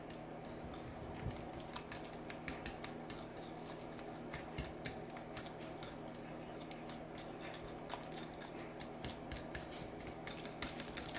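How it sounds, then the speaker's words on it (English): A utensil mixes vanilla extract and cinnamon into mashed bananas in a bowl, giving faint, irregular soft taps and squishy scrapes close by in a quiet room. "I'm going to mix that up just a little bit here"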